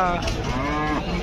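A single long, loud cow moo close by at the Siddipet cattle market, rising and falling, with no speech.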